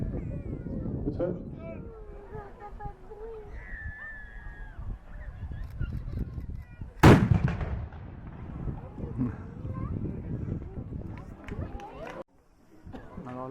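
One sharp, booming shot rings out from a medieval twin-barrelled cannon with removable breech chambers at a castle show in Sully, cutting through nearby crowd murmur and voices that continue afterward.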